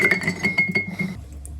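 Ice cubes clink and rattle against a glass as a drink is stirred, a quick series of bright taps up close.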